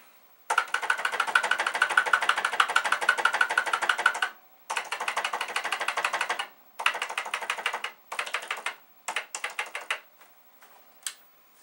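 Rapid typing on a VIC-20 PET-style computer keyboard, close and crisp, in a long dense burst followed by shorter clattering runs and a few scattered final keystrokes, with no voices.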